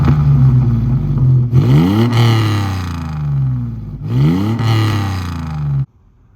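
Engine of a 1989 Toyota Pickup compact truck revving hard twice, each rev climbing then falling back to a steady, loud idle, heard up close with no talking until it cuts off abruptly.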